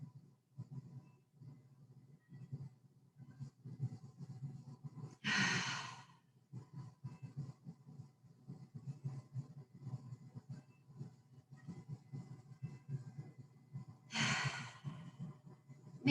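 Two deep, audible exhales from yoga breathing about nine seconds apart, each a breathy rush lasting under a second, over a faint low background hum with no talking.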